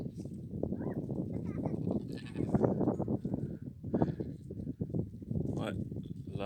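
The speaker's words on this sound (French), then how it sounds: "C'est une chèvre." Farm goats bleat repeatedly in short, shaky cries, close and fairly loud, mixed with other livestock while people talk nearby.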